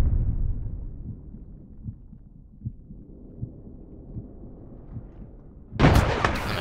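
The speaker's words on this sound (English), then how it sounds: "Ooh, grenade." Grenades in the shooter All Points Bulletin set off a string of low, muffled thuds, then one loud, close blast near the end.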